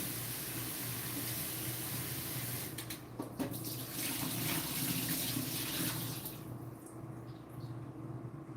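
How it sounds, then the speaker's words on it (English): Water from a kitchen tap runs steadily into a sink while items are washed, a continuous close hiss with brief clinks and shifts in the flow, no talking. "I'm going to quickly wash these, and then let's wash all this at once."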